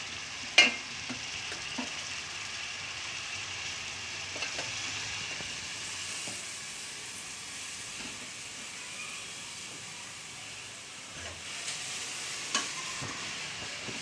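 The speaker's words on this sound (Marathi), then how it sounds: "हलवून घेते मस्त" Quiet, steady sizzle of a green chilli moth bean curry with boiled potatoes frying in a pan, with occasional soft scrapes and taps of a spoon stirring throughout.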